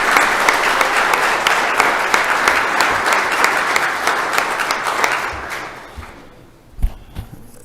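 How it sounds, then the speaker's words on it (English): A round of applause fills a Senate appropriations chamber, dense and sustained clapping from many hands for about five seconds before tapering off to scattered claps and a few thuds. "I think we owe them a round of applause."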